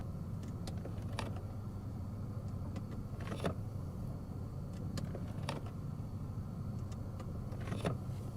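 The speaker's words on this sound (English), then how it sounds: "Take a listen to the doors locking and unlocking in this car." Power door locks on a Maybach 62 luxury sedan actuate several times, each a soft, brief mechanical click spaced a couple of seconds apart over a low, quiet cabin hum.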